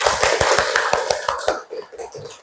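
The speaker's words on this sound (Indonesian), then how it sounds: "tepuk tangan untuk kita semua" A classroom group doing rhythmic hand clapping, a rapid run of sharp claps in quick succession that thins out to a few scattered claps after the first second and a half.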